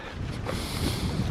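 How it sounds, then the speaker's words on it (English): Cold wind blowing outdoors in open country, a steady broadband rush buffeting the microphone, loud and close with no voices. "There is definitely a cold wind."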